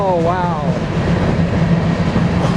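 A BNSF freight train led by engine 5782 rolls eastbound with a double grain consist in Spokane Valley, Washington, giving a steady loud rumble and clatter of railcars close by while a voice speaks briefly at the start.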